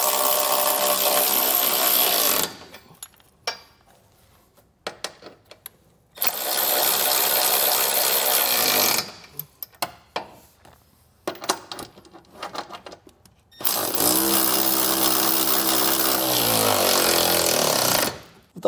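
A power tool drives the trailer hitch receiver bolts tight on a 2023 Hyundai Tucson, running in three long, loud, steady bursts separated by quieter pauses with small clanks.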